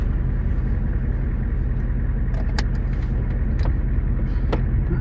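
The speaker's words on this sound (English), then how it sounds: "So I got the truck all warmed up and I'm gonna head down the road" A truck's engine runs steadily while driving down the road, a constant low rumble of motor and road noise filling the whole stretch, with a few faint clicks and brief higher noises near the end.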